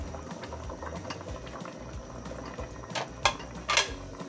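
Sinigang sa miso with fried tilapia, mustard greens and long green chili simmers at a rolling boil in a pot, close bubbling and popping with a few louder spattering bursts near the end, no voices.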